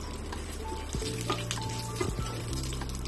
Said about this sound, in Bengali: তেলটা গরম হলেই আমি তাতে অ্যাড করে দিব 1 চা চামচ আস্ত জিরা, 3টি আস্ত লাল মরিচ,